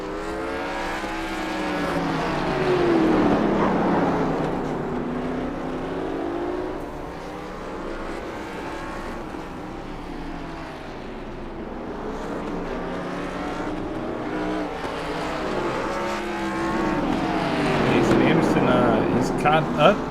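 Race cars in an online sim racing video game, engine notes swelling and sweeping up and down in repeated waves of revving and passing, heard at moderate level beneath continuous commentary talk.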